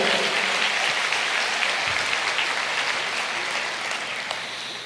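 Church congregation applauding during a worship service, a dense, steady wash of clapping at full strength throughout that eases slightly toward the end, with no voices standing out.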